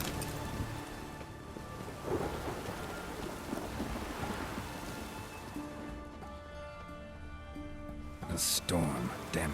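A thunderstorm in The Witcher 3: Wild Hunt brings a steady roar of heavy rain mixed with low rumbling thunder. A voice speaks over the storm, and a sharper burst comes near the end.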